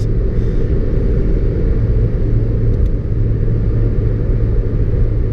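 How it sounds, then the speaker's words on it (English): Steady low road rumble and Nexen winter tire hum from inside a moving 2019 Suzuki Vitara 1.4 BoosterJet, constant and fairly loud with no talking. "Some noise from the winter tires"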